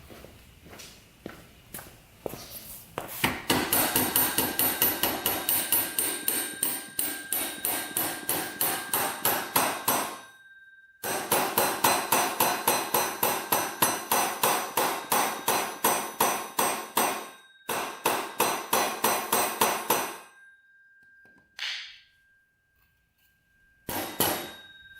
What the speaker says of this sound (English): We're going to use a rubber hammer, just pound that guy on.